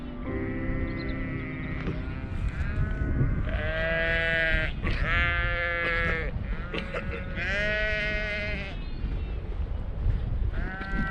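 Sheep on a Lake District hillside near Potter Tarn give several loud, close bleats in quick succession. A rough, coughing sheep may be among them, and soft wind noise runs underneath.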